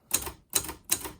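A Hermes Baby portable typewriter is typed three times at an even pace, each crisp, loud keystroke standing alone with a short ringing tail and no talk.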